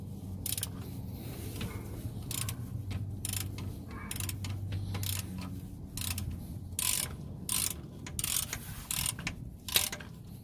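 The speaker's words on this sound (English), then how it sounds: "now we can go ahead and remove the two 14mm fasteners" Hand ratchet clicking in short bursts while loosening the two 14mm bolts holding the starter on a 2003 Kia Sorento, sharp close pawl ticks with a low background hum, no talk.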